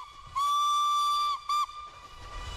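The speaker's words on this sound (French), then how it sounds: "c'est la locomotive Mallet numéro 101 du Velay Express que nous allons voir évoluer" Mallet steam locomotive No. 101 of the Velay Express, built in 1906 in Blanc-Misseron in northern France, sounds its steam whistle: one long steady shrill blast of about a second, then a short second toot, fairly close, with a low rumble underneath.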